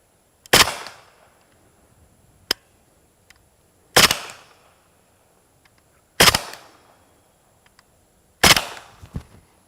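Four sharp, suppressed gunshots from a Kalashnikov USA KP9 blowback pistol fired into dirt downrange, spaced about two seconds apart with brief decays, plus a fainter crack between the first two and a small trailing impact at the end.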